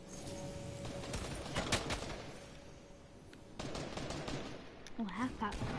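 Gunshots ring out as someone is shot, a scattered run of sharp cracks and bursts over a steady background, with a fluttering chirp-like sound near the end.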